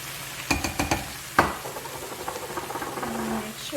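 Bacon, shrimp and spinach cook in a pan with a low sizzle, marked by a few close clanks and scrapes of a utensil, then softer rhythmic stirring.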